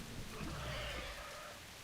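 Steady rain falling in World of Warcraft, a continuous soft hiss that holds evenly for the whole moment with no voices over it.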